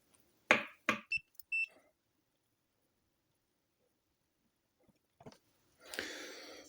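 Short, clear electronic beeps from a multimeter set to continuity, sounding twice near the start of a test on wiring in a camper van build, followed by quiet handling noises and then a burst of rustling.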